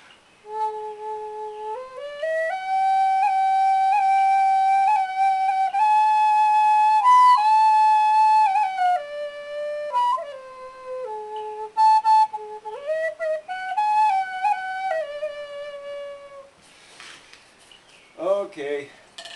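Homemade Native American style flute paired with a Cherokee four-hole whistle plays a breathy, sustained melody of held notes and stepwise pitch changes, close and fairly loud, ending with a few short trills and overblown squeaks; no talking.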